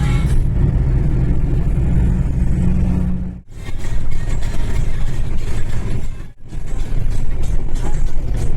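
A Hyundai i20 and another car overtaking on the road, with loud, close engine rumble and road roar that drops out abruptly twice.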